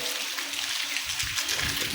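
Rainwater gushes and splashes steadily in a village during a hot-weather downpour, a broad rushing water sound with brief low thuds of nearby movement.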